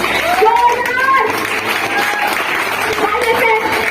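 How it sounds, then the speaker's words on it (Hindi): Seminar attendees at a business-building event clap loudly together for a guest, with voices and scattered cheers rising through the applause. "एक बार जोरदार तालियां उनके लिए"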